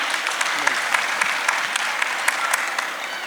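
Steady audience applause at a kavi sammelan poetry gathering, dense and even clapping from a large crowd filling the whole stretch without a break, moderately loud and close.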